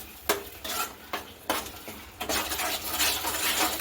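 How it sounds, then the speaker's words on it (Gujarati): Masala being stirred into a kaju curry gravy in a pan gives repeated scraping strokes of a spoon against metal with soft clinks, over a bubbling sizzle that grows fuller toward the end. "હવે તેને સારી રીતે મિક્સ કરી લઈશું"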